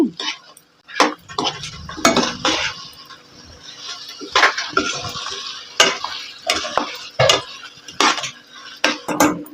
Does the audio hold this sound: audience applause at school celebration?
no